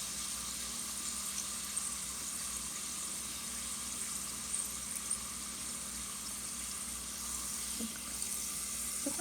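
Chrusciki pastries fry in oil that is not bubbling strongly, a faint steady hiss and soft bubbling that continues throughout with a few small pops.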